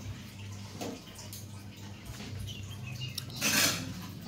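Hands being washed under running water at home, a soft continuous splashing trickle that swells into a louder gush near the end, with no talk over it.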